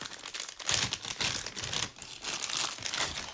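A small plastic packet of Star Wars Legion cards crinkled and torn open up close, with bursts of crackling foil-like rustle in uneven handling rhythm, no talking.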